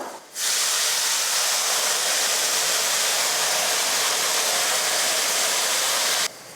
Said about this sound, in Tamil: இப்போ புளி தண்ணியை சேர்த்துடலாம்.